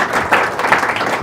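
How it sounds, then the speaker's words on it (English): Audience at a university business talk at GW claps in a short, dense burst of applause. "a round of applause for John again"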